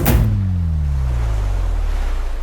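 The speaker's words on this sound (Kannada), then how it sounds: "ಈಗ ನಾವು ಸಮುದ್ರಕ್ಕೆ ಬಂದಿದೀವಿ." Sea surf on the shore makes a continuous loud wash of breaking water with low rumbling and some wind buffeting the microphone, and no voices are heard.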